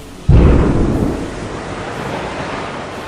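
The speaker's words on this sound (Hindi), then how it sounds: "डेप्थ चार्ज यानी बम दागे और एक जोरदार विस्फोट हुआ।" A sudden deep boom from an undersea depth charge erupts and rolls into a long rumbling wash of noise that slowly fades but lingers to the end.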